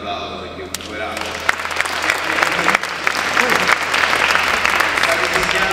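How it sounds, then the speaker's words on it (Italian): Sustained audience applause at an Italian comics event honoring an artist who is drawing live, steady dense clapping that swells after the first second and holds loud to the end, with a voice faintly heard at the start. "un bel applauso perché è un poveraccio."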